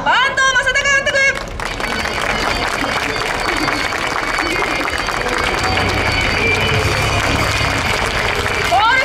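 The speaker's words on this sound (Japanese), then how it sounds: "皆さん大きな拍手でお迎えください" Audience applause and cheering at a Super GT motorsport talk show at Fuji, welcoming a team manager on stage; a dense, steady wash of clapping fills the whole stretch, with a brief announcing voice and music-like tones at the start.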